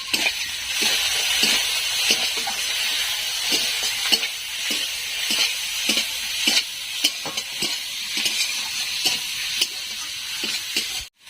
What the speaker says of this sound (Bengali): পেঁয়াজটা তাড়াতাড়ি ভাজা ভাজা হয়ে যাবে